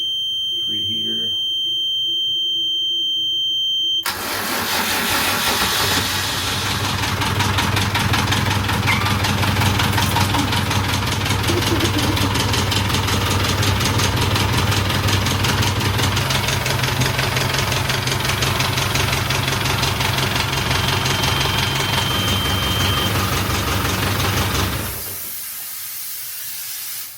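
An old sailboat's diesel engine cranks and catches, then idles loudly with a steady knocking rumble for about twenty seconds before shutting down, while a high warning tone from the panel persists at the start and returns at the end.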